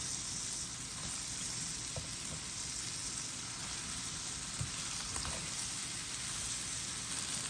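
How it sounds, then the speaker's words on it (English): Hot links sautéing in a pan give a steady, even sizzle that runs the whole time with faint pops and stirring clicks, close and moderately quiet with no voices. "I'm just gonna put them in just like this and let them saute up nice and good"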